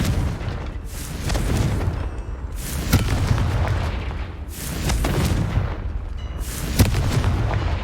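Confringo fire spell explosions in Hogwarts Legacy on PS5, several loud booming blasts in a row at roughly even intervals, each with a rumbling tail, no speech over them.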